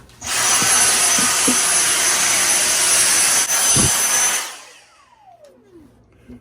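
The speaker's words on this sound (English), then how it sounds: "our little super sucker, the Dyson Magic Vac" A Dyson Magic Vac handheld vacuum cleaner runs close by with a loud, steady high whine for several seconds while cleaning a Gibson Maestro guitar headstock, then winds down with a falling tone into near quiet.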